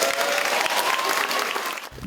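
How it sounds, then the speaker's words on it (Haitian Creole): Applause for a student at a secondary school gathering on Praslin, steady dense clapping from an audience throughout, fairly loud and close, stopping abruptly near the end. "On applaudit Jules."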